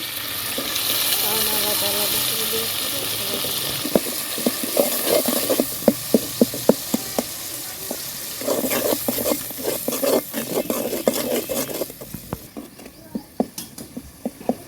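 A spice paste of ground chili, garlic and turmeric fries in a home kitchen pan, giving a steady close sizzle broken by repeated scraping strokes of a spatula, with the hiss fading toward the end.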